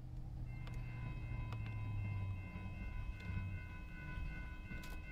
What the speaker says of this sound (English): Westbound intermodal coming.